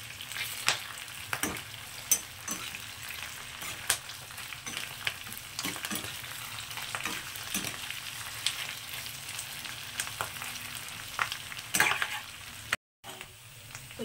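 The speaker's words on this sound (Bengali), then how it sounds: "তো সবগুলোকে এখন আমি খুব ভালো করে ভাজা করে নেব" Red hibiscus flowers and leaves fry in a pan, giving a steady close sizzle with frequent small crackles and stirring scrapes throughout, with no voices.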